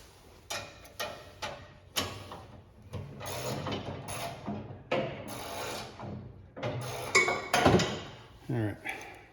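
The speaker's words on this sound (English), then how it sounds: "simple ratchet and a 13mm socket, and we just tighten it down" A ratchet with a 13mm socket tightens down a John Deere snowblower mount in short bursts of metallic clicking, repeated pass after pass with brief clinks and a few pauses in between.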